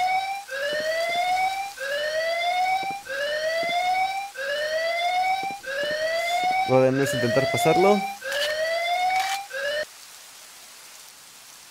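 An alarm siren in the video game Perfect Dark Zero wails in loud, repeated rising whoops about every second and a half. A voice speaks briefly over a burst of game noise, then the siren cuts off and leaves quiet.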